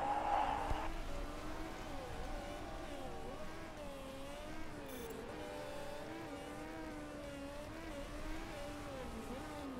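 Race cars circle a track in the Motorsport Manager video game, a steady blend of engine tones rising and falling as cars accelerate and pass, faint and continuous, with distant commentary-like murmur underneath.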